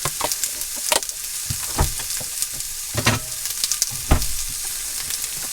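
Onions frying in butter in a pan inside a motorhome, crackling and hissing steadily with scattered louder spits and stirring knocks, close and alone without talk.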